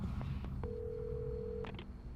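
A telephone in the Alan Wake Remastered video game gives a few short dialing beeps, then a steady tone holds for about a second and is followed by a couple more tones, soft and close, with no talking.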